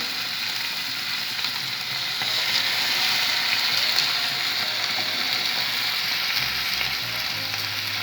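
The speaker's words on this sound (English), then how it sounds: "Always when you are putting your steak, you lay them away from you to avoid the oil." Rump steak frying in olive oil in a pan gives a loud, continuous hiss and crackle up close, steady throughout with a faint low thump near the end.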